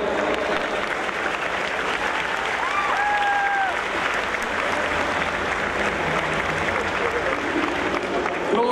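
A large crowd at a Gamescom 2014 Blizzard costume contest applauds two costumed contestants with steady, continuous clapping and cheering throughout, while a brief tonal whistle rises over it midway.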